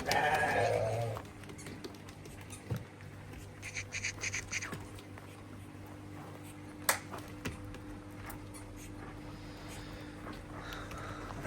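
A giant Arashan breed ram bleats loudly up close at the start, then a quiet pen follows with scattered faint clicks, shuffles and a brief sharp snap.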